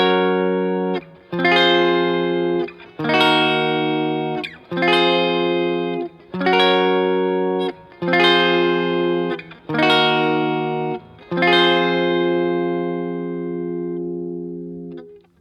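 Electric guitar strumming the chord progression of a song, seven evenly spaced bright chord hits with short gaps between them, then a last chord left ringing and slowly fading, with a clean, slightly effected tone.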